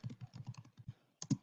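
Keys on a computer keyboard are typed in a quick, uneven run of close, soft clicks, with a brief pause before a few final, heavier taps, and no one speaking.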